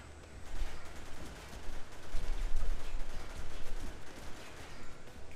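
Gunfire in the shooter Haze, sounding as dense, rumbling bursts of automatic fire mixed with heavier booms, continuous and fairly loud across the whole stretch, with no talk.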